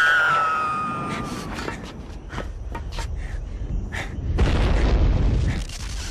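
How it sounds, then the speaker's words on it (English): A loud, sustained boom rumbles through an explosion in GoldenEye on the Wii, opening with a falling tonal sweep, followed by scattered sharp crackles and a second heavy surge of rumble near the end. "Whoa, explosion!"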